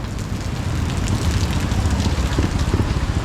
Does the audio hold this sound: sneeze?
no